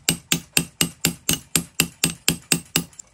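A hammer strikes a rivet on a restored Aititokei Denki ship's clock movement, about a dozen crisp metallic blows in a quick, even rhythm, close and loud with no talking.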